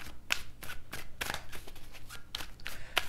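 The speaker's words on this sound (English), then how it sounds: "a few more shuffles here" Tarot cards are shuffled by hand in several quick riffling bursts, crisp papery flutters separated by short pauses, close and moderately loud with no talking, during a tarot reading.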